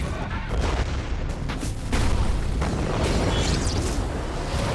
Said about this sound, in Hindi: कुछ दिनों बाद एक चिंगारी की वजह से फ्यूल के ड्रम में धमाका हो जाता है